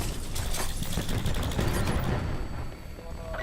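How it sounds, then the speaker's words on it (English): Rapid, dense bursts of explosive gunfire-like blasts from cluster grenades in Black Ops 4 on the Nuketown map, loud and continuous before easing slightly near the end. "Cluster grenade."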